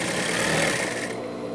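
A sewing machine stitches the lining side of a Mickey Mouse pet sweatshirt, a brief close mechanical chatter that eases off toward the end.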